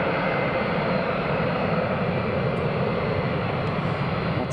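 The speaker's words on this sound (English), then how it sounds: "That's the 737-900 airborne." Boeing 737-900 jet taking off at Edinburgh Airport, a steady, loud, broadband engine roar that holds evenly throughout without talk.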